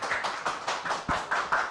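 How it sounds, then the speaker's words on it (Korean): Audience applause at a citizens' forum on Gunsan's local economy and commercial revitalization, welcoming a cooperative chairman to the podium: a brief, modest round of clapping from a small crowd, fairly even and without voices. "우리 박수 한번 부탁드리겠습니다"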